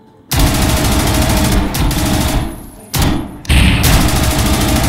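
Shotgun fire inside a residential house in the tactical shooter Zero Hour, loud heavy blasts in quick bursts separated by brief silent gaps, harsh and close.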